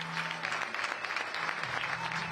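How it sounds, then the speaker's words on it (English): Crowd at the 2024 European Disc Golf Festival cheering and clapping as Estonian disc golfer Kristin Tatar is introduced, dense applause with shouts rising and falling over a couple of seconds, fairly near and continuous. "Kristin Tatar, getting huge cheers from the crowd"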